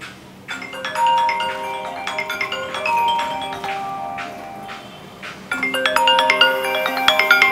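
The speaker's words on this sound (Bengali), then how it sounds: "রিসিভ করুন, জরুরি ফোন হবে।" A mobile phone ringtone plays a bright, repeating electronic melody of clear tones, loud and close, with the pattern looping and swelling slightly toward the end.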